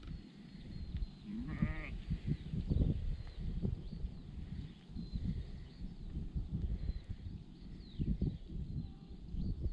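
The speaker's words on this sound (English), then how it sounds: "once he brings these sheep in" Sheep being brought in on a farm ahead of shearing and crutching bleat now and then over a busy background of shuffling hooves and movement, with one clear quavering bleat standing out near the start.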